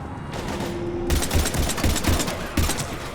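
Heavy gunfire in a Mass Effect 3 battle, a steady rattle of close shots that turns louder and denser after the first second, with regular thumping impacts and no talking.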